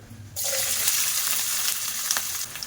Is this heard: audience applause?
no